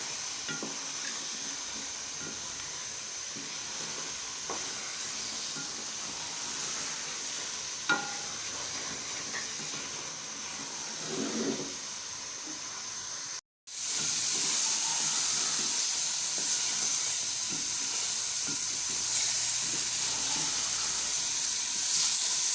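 Halwai-style gajar ka halwa (carrot halwa) roasts in oil in a pan, giving a steady, close sizzling hiss with soft stirring. The hiss drops out for a moment, then returns brighter and louder.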